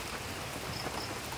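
Heavy rain pours steadily over a rural farm area, a dense, continuous hiss of drops on surfaces with no pauses and no voices.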